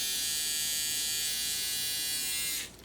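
A small electric trimmer buzzes steadily at close range with a high, even whine, then cuts off abruptly near the end.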